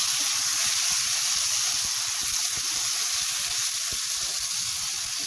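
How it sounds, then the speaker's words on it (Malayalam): Five tomatoes go into a hot pan for an anchovy fish chutney and set off a loud, steady sizzle with crackling pops that holds evenly throughout, close and with no talking. "ഇതിലേക്ക് ഞാൻ തക്കാളി ചേർക്കുവാണ്. 5 തക്കാളിയാണ് ചേർക്കുന്നത്."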